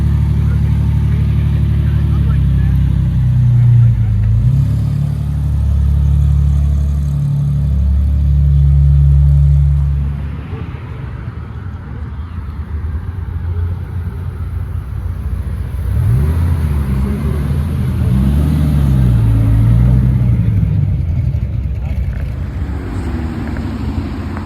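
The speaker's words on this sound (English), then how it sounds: "And they've made this V6 sound incredible in my opinion." Ferrari 296 V6 engine at a car spotting location, a loud, close, deep rumbling engine that rises and falls in revs before settling into a steadier throaty drone.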